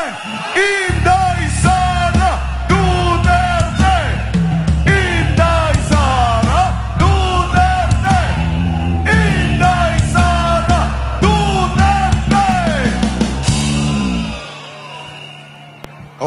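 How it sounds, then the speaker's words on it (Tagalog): A crowd loudly shouts a chant for Sara Duterte in repeated, continuous yelled phrases over a steady low backing, then stops abruptly near the end. "Anong sigaw ng bayan? Inday Sara Duterte! Inday Sara!"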